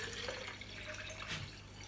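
Oral rehydration solution poured into a plastic water bottle: a quiet, continuous trickling pour with small gurgles and a rising tone as the bottle fills, no talk.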